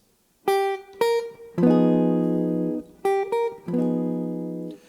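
Clean, bright jazz guitar bebop lick in quick succession: two short picked notes, then a sustained chord-like phrase resolving to the flatted 9, repeated twice with a brief pause.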